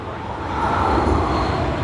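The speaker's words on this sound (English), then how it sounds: "we see another Qantas, Boeing 737" A Qantas Boeing 737 passes at Sydney Airport in the evening, its engines a loud, steady rumbling roar that swells slightly midway through the short stretch.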